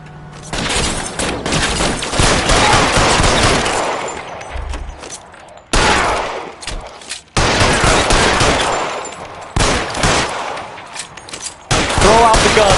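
A shootout in the video game L.A. Noire, with loud, dense bursts of rapid gunfire and machine-gun volleys broken by short pauses, with a voice heard briefly between the shots.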